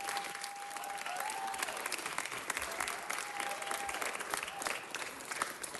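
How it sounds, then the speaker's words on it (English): Steady applause from a city council meeting audience, a dense wash of many hands clapping continuously at moderate level, with a faint tone running beneath it. "How about a big round of applause for all of these organizations?"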